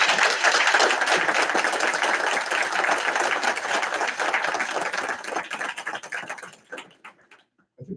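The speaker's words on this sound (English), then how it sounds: "So I'd like to give everybody here a round of applause." Audience at a Lawrence Township municipal council meeting applauding, dense clapping at a steady level that thins into a few scattered claps and fades out near the end.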